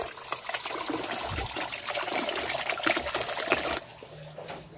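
Steady trickle of water running from a spout into a fish pond beside a rural house in the hills, continuous and close, then cutting off near the end.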